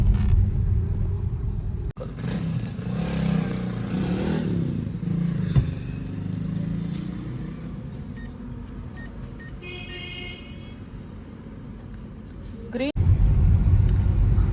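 A diesel car's interior rumbles steadily as it drives, a loud low engine drone throughout, with brief beeps and clatter midway and a voice talking over parts of it.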